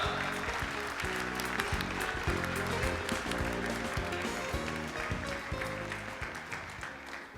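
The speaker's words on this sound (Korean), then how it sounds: "다시 한번 힘찬 박수 부탁드리겠습니다" Applause rises from the audience at the founding ceremony of GBA, held steady and fairly loud throughout with a dense patter of clapping that slowly tapers toward the end, over a low, regular rhythmic backing.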